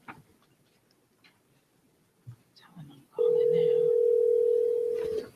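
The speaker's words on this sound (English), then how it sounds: "At least it's ringing." A telephone placed on speaker during a school board meeting gives a long steady ringback tone after a few faint clicks and room sounds, with people talking quietly nearby.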